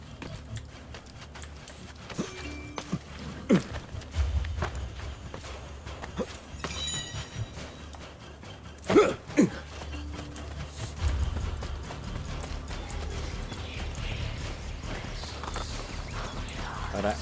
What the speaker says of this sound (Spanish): Va a agarrar el caballo.